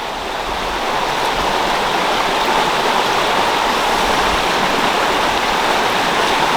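River flowing beside a road and stone retaining wall near Blackpool Sands, a steady broad rushing of water that stays close and constant throughout with no voices.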